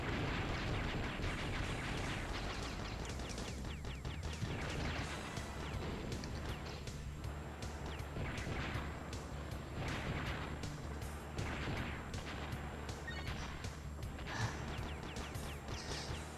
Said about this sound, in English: they can hop lilies that explode. Nitroglycerin lilies.